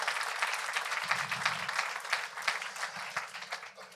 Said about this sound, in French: Et on peut l'applaudir, en effet.